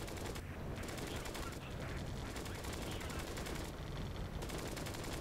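Rapid machine-gun bursts from fighter aircraft in the World War II flight game Flying Tigers: Shadows over China, during a raid on Rangoon, steady dense rattling fire over engine roar, with a few brighter bursts standing out.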